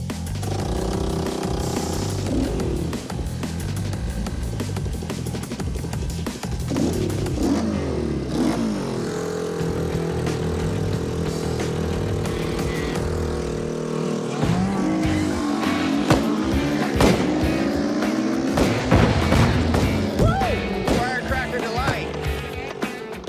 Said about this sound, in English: Right off the line, I hear the engine backfiring